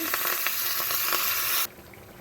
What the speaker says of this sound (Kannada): ಈ ಸಾಸಿವೆ ತಟ ಪಟ ತಟ ಪಟ ತಟ ಪಟ ಅಂತ ಆಗುವಾಗ ಕರಿಬೇವು ಹಾಕಿ